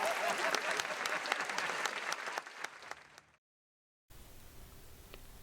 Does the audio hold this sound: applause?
yes